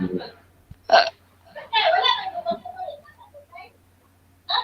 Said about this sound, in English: Was that a mango burp?